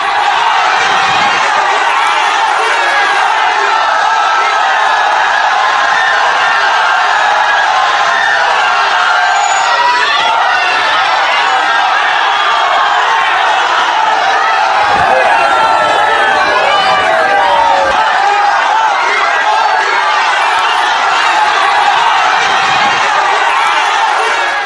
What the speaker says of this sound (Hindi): प्रधानमंत्री को देखने के लिए हजारों की भीड़ थी सड़कों पर।